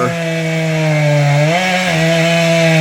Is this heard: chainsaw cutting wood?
yes